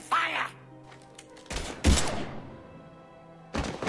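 Mass Effect 3 gunfire comes as a few loud, abrupt bursts separated by quieter gaps with low rumble and voices.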